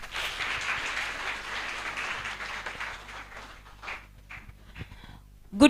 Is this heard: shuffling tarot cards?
no